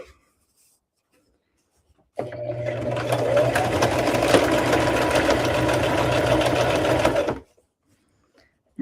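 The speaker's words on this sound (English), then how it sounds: "sew right down it. And I'm sewing between 3/4 and an inch." A sewing machine stitches fabric in one steady, close run of about five seconds, starting and stopping abruptly with silence on either side; the machine is working a seam of about three-quarters of an inch to an inch.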